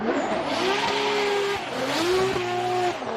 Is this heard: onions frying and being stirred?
no